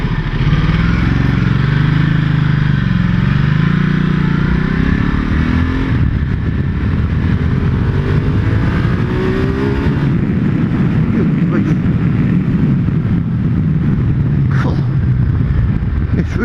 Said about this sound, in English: Typical Ducati, it's got a real burble to it.